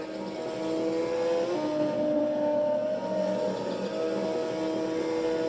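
Steady motorbike engine drone from a video game played on an old Compaq Presario 2240 laptop, holding a constant pitch with slight rises as it revs, continuous and fairly loud for the whole stretch.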